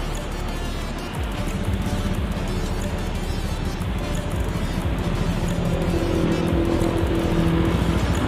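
A 2018 Porsche Macan starts up and settles into a steady idle, heard close and continuous for several seconds, with a faint tone rising near the end.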